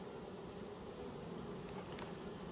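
Honey bees crowd a hive frame covered with nurse bees in a queenless hive, making a steady, close, continuous hum. No voices are heard over the buzzing.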